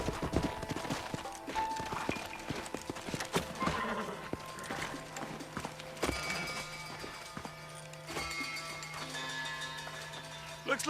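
Horse hooves clip-clop in the Western game Red Dead Redemption as riders pull up near an old house, a busy layered game soundscape with steady hoof steps, music and ambient tones.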